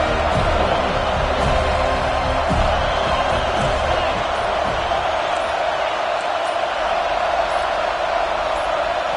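Loud, sustained stadium crowd roar at a college football game, a dense continuous wall of noise with no break, the crowd pushing the offense into a false start.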